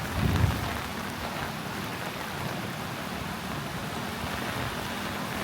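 Heavy rain pours down on an African village during a flooding downpour, a loud, dense and unbroken wash of drops with a brief low rumble at the start and no voices.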